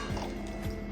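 Milk poured into a pan for Brazilian pão de queijo batter, a short, steady liquid stream with faint splashing and filling gurgles, close and fairly quiet, no talking.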